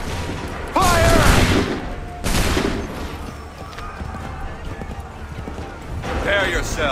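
Musket volleys crack out in the video game Assassin's Creed III, with two loud rolling bursts of massed gunfire followed by a lingering battlefield rumble, and voices call out over the din.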